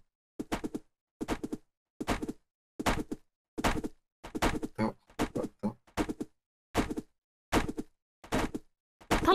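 Repeated heavy thuds of a door being bashed in the video game Subsistence, about a dozen evenly spaced blows with short gaps, loud and close, with a few quick mid-sequence hits crowding together.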